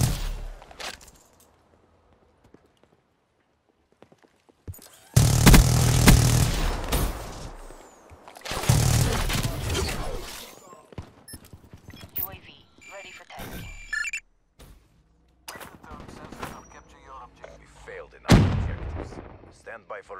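Gunfire in Black Ops 3, with loud bursts of shots and booms in several clusters separated by quieter gaps, and game voices heard around the firing.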